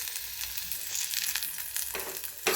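Cabbage and vegetables seasoned with turmeric and salt frying in a pan, a loud continuous close sizzle with faint crackles throughout.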